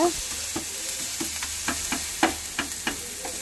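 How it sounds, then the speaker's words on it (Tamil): Chopped tomatoes frying in a pan for idli upma, a steady sizzle broken by repeated scraping strokes of a spoon stirring at an even rhythm, close and moderately loud with no talking. "நல்லா ஃப்ரை பண்ணிக்கோங்க"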